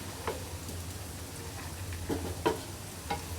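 Bottle gourd curry cooks in a wok, giving a steady close sizzle with a low rumble beneath and a few sharp stirring clatters near the middle and end.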